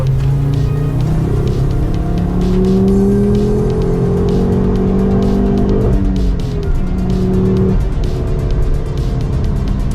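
Race car engines drone and rev steadily as cars drive around a track, pitch rising and falling with gear changes, loud and continuous.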